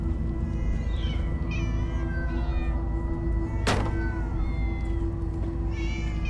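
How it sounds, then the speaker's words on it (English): Many cats meowing in Minecraft: Story Mode, several short overlapping meows from different directions over a steady background hum, with a sharp thunk partway through. "Ah, many cats. So many cats."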